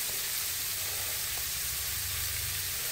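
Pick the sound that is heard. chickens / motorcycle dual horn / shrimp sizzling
shrimp sizzling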